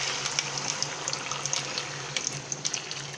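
Water poured into a pot of frying potatoes and squash, a steady running pour with small splashes and light clinks over a low hum, fairly quiet and close.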